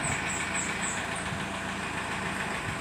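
A truck's engine idling while it warms up to build air-brake pressure, a steady low rumble with a faint knocking pulse and a high periodic whine on top, continuous and fairly close.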